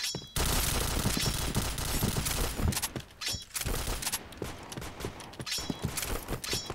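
Gunfire in the shooter game Point Blank crackles in dense, rapid volleys close up, with brief lulls between the bursts.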